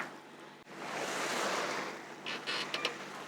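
A boat slips through calm sea water off a headland, giving a steady broad wash of water and hull noise with some wind across the microphone, and a few brighter splashes toward the end.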